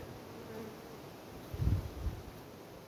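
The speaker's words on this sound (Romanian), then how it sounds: "sunt și aici 50 de albine" Faint, steady buzzing of many honeybees around a hive, with a brief louder low thump partway through.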